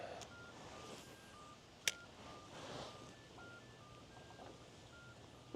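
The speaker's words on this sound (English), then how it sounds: "Some alarm going off." A faint electronic alarm beeps repeatedly in the distance beside a Florida Keys canal, thin tones over a soft outdoor background with one sharp click, and no talk.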